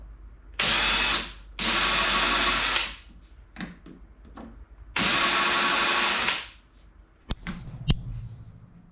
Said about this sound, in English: with that piece clecoed here onto the spar as a guide, we'll countersink the forward-facing holes